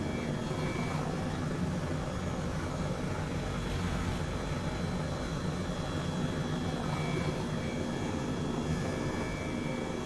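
Helicopter landing on a helipad in Microsoft Flight Simulator: a steady, loud engine and rotor drone with constant whine, unchanging throughout.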